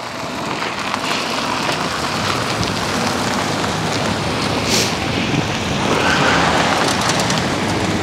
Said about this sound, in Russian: Вот видите, сколько машин едет